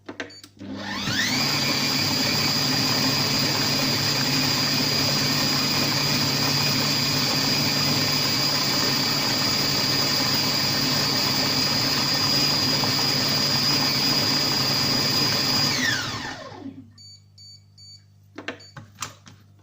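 A Compact Cook Pro multicooker blending oranges for jam runs as a loud, steady, high-pitched whir for about fifteen seconds, then winds down and stops, with faint clicks afterward.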